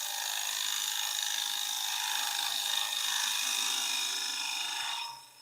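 A scraper shear-cutting a wooden fillet on a spinning lathe gives a steady, close hiss and rasp that holds level for about five seconds, then fades out at the end.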